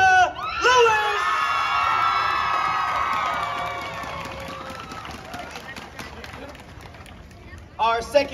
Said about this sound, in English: Please make some noise for candidate number one, McKenna Lewis!